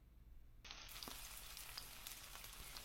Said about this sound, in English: So there's some sizzling bacon, a video of some sizzling bacon on an iPad.